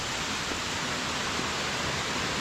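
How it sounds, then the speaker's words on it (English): Comer's Creek waterfall on a forest trail, a steady broadband rush of falling water filling the scene, loud and continuous with no voices. "And look at this waterfall."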